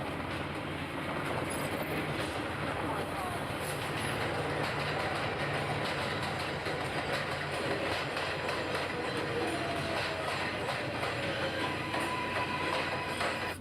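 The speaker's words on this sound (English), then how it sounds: "We hop on the 7 train." A New York subway train on the 7 line runs along the tracks with a loud, continuous rumble and roar, steady wheel noise and faint clatter sustained throughout, with no voices.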